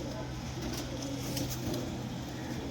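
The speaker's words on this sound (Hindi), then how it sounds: "देखिए कबूतर" Domestic flying pigeons in a fancier's loft at Talab Khatika coo in a low, rolling drone, several birds overlapping near at hand and steady throughout.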